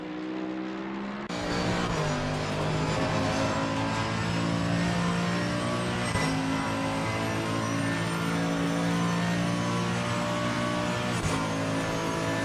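A Mercedes AMG GT3 race car engine in a racing game at Mount Panorama, a loud sustained engine note that kicks in abruptly, then rises and shifts through gears with brief dips, close and alone without talking.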